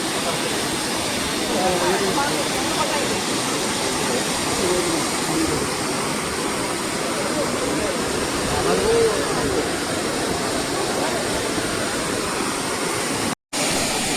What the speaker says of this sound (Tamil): ஸோ இதுதான் அந்த நீர்வீழ்ச்சி.